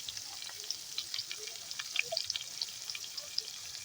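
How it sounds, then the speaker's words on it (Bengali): Drumstick stems fry in a pan with salt and turmeric, a soft, fairly faint crackling sizzle full of tiny pops and spits, steady and close with no voices. "এবার ভালোভাবে এগুলোকে ভেজে নেব।"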